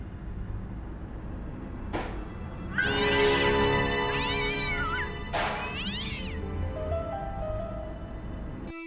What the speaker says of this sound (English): a wonderful jump scare with a cat